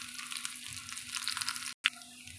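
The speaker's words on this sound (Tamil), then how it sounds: "சின்ன வெங்காயம் நல்லா பொன்னிறமாக பொரியட்டுங்க." Small shallots fry in oil with popped mustard seeds for a Chettinad-style drumstick sambar, a steady crackling sizzle near the pan that cuts out briefly before a sharp clatter and resumes.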